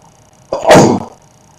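One loud, close sneeze cuts sharply through a quiet room, with a brief intake of breath just before it.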